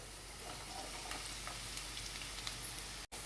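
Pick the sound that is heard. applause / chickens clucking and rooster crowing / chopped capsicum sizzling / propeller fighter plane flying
chopped capsicum sizzling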